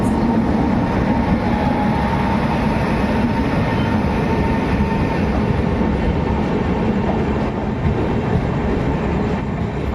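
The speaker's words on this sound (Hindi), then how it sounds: "तो WAP7 लोकोमोटिव के साथ 12969 कोयम्बटूर जयपुर सुपरफास्ट।" The 12969 Coimbatore–Jaipur Superfast, hauled by a WAP7 electric locomotive, rumbles past nearby with a loud, steady roar of wheels and wagons that fills the whole stretch without let-up.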